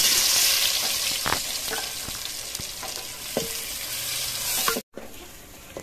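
Loud steady sizzling of onions frying in hot mustard oil, with occasional scraping stirs and clicks, no voices.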